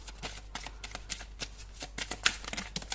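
Lenormand cards being shuffled by hand, a rapid run of crisp riffling and flicking bursts in an irregular rhythm, close and fairly quiet.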